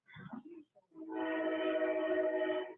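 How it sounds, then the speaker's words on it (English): A train horn blows one long sustained tonal blast, loud and steady, after a brief rumbling murmur of background noise; no talk over it. "Boy, I love that train sound."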